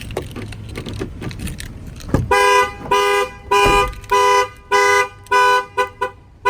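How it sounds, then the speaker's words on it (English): A fleet vehicle's car alarm, triggered by opening a door, blares close by in a steady on-off rhythm of loud honking pulses, preceded by a few clicks and rustling. "If you open any of the doors, the alarm will fire off."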